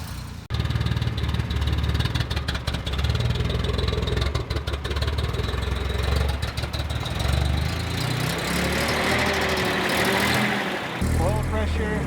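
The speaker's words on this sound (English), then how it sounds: "We just jumped the battery off on the Ford and it fired up." An old Ford car engine idles steadily after a battery jump-start, a loud rough rumble running throughout, with a brief rise in revs near the end.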